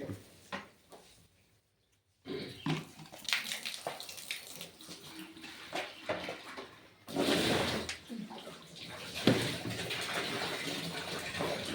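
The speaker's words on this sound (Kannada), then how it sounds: "ಇನ್ನೂರು ಲೀಟರ್ ಡ್ರಮ್ಗೆ ನೀರನ್ನ ತುಂಬೋದು" Water pours into a 200 litre drum while a traditional Go Krupamruta farm culture is mixed. The gushing splash is faint and uneven, with a short quiet gap near the start, and people talk quietly over it.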